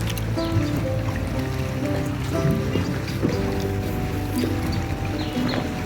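Water laps and trickles around a houseboat moored near Kolkata, with gentle sloshing and dripping close by alongside a low rumble, and no clear talking over the flowing sound.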